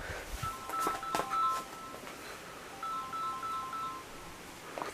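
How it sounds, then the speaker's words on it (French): A mobile phone rings with an incoming call from an unknown number in a quiet room, sounding as two separate bursts of short, electronic beeping tones, each lasting about a second, at moderate volume with no voices. "On me téléphone, le numéro n'est pas enregistré."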